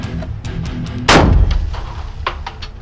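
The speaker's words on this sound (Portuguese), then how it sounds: "O tiro de fuzil." A single loud rifle shot cracks out during a criminal forensics shooting exercise at a range aimed at a water tank, followed by a decaying boom and quieter background noise.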